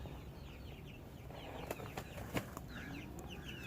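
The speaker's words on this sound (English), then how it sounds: "See all the little chickens up there?" Young chickens in a grow-out pen with its own run give off scattered clucks and soft chirps, with a few brief wing flaps, over a steady outdoor background hum.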